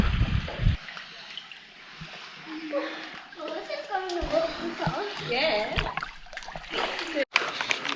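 People swim through a freezing gorge pool in Karijini National Park, and the water splashes and sloshes around them in rough bursts, with a voice and other voices heard over the churning water.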